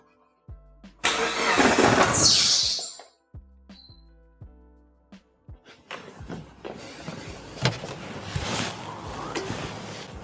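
A Mitsubishi Evo 7 engine is started after its pulley is refitted. A loud cranking burst settles into uneven knocks and clatter, then rougher running noise follows, with no talking.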